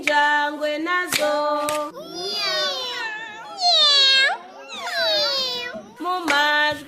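A cat meowing in a Kinyarwanda children's song about animal sounds, several long, drawn-out meows over a sung melody, loud and close.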